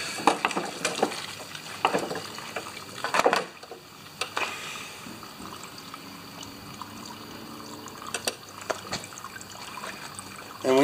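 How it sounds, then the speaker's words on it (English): Fuel being dumped out of a Murray Craftsman lawnmower, a soft trickling and splashing of liquid with scattered clunks and handling knocks, close and fairly quiet. "Let's just dump out fuel."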